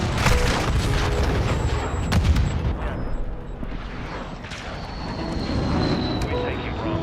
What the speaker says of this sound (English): Cargo planes we have where we just got bored and slapped a couple of cannons on it.